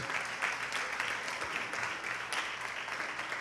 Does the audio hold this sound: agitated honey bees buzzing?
no